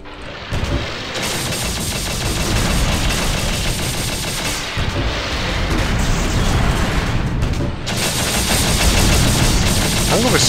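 A grenade launcher fires in the Shadowground video game amid a dense, continuous barrage of loud bursts and booming impacts with near-constant gunfire and a brief lull.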